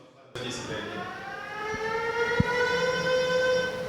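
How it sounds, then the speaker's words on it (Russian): An emergency siren at a power grid substation wails loud and steady with a slowly rising, sustained tone, and a couple of brief knocks sound beneath it. "В последние дни эта сирена стала неотъемлемой частью жизни специалистов Черноморэнерго."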